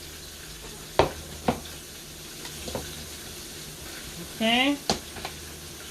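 Fish grease heating in a pan on medium-high gives a steady low sizzle and hiss beneath sharp utensil clicks and a brief spoken word.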